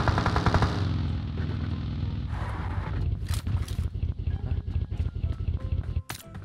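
Gunfire rattles in the video game PUBG Mobile as rapid automatic bursts and scattered single shots, loud and close, with a faint voice in the background.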